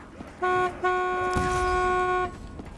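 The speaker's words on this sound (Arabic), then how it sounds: "لا هذا زمور الباص هذا قوي" A strong bus horn honks in Call of Duty Black Ops 6 Zombies on the Transit map, one short toot followed by a longer sustained blast.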